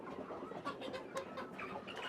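Hens cluck softly on a small-scale poultry farm, a loose scatter of short clucks and calls from several birds, faint and slightly distant, with no talking.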